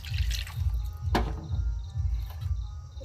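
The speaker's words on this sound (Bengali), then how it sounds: "এতে আমি সামান্য জল দেবো" Water going into a hot kadai, a sharp splash and hiss followed by low bubbling and dripping, close and brief with no talk.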